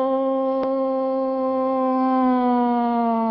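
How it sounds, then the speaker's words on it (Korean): A curfew siren sounds a steady, loud, sustained wailing tone, alone with no voices, holding its pitch with only a slight sag toward the end. "통행금지 사이렌이 빨리 울려야"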